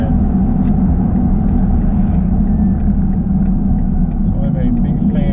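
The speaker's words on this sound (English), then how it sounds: "So I'm a big fan of the way this truck drives." A 2002 GMC Sierra Z71 4x4 pickup drives along the road, its engine and tire rumble a steady low drone from inside the cab.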